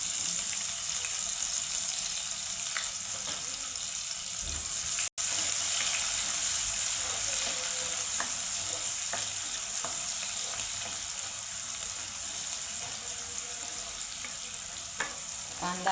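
Finely chopped onion frying in a pan for a homemade kaju curry, giving a steady, even sizzle with faint stirring scrapes that runs throughout without talk.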